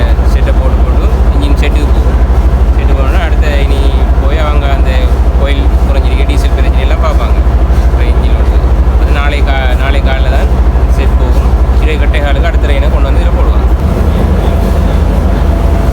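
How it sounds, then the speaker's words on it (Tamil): A train pulls out of a Sri Lankan station with a loud, continuous low rumble and clatter, joined by screeching and squealing, as voices talk over the noise. "நம்ம வந்த ட்ரெயின் இப்போ கிளம்பி போகுது"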